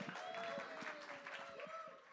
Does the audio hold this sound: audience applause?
yes